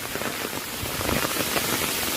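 Heavy rain pours down steadily near a waterfall in Kanchanaburi, Thailand, a dense, unbroken hiss of drops on surfaces, close and constant for a couple of seconds.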